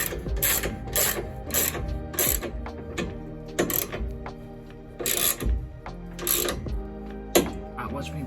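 A torque wrench ratcheting while tightening fasteners during car interior reassembly: a run of quick clicking bursts in an uneven rhythm, close and fairly loud, with no talk.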